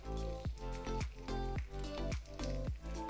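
Tomato sauce squeezed from a bottle onto potato cheese snacks gives a quick series of close, wet squelches, about six spurts in an even rhythm.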